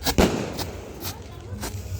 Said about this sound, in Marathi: आता 12 वाजलेत आणि सगळीकडे फटाके फुटतात